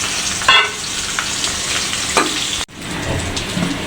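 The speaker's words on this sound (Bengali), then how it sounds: "এখন বেগুনটা ভেজে নিব।" Sliced eggplant sizzles and spits in hot oil in a wok, a steady close frying hiss with a few louder crackling bursts and no talking.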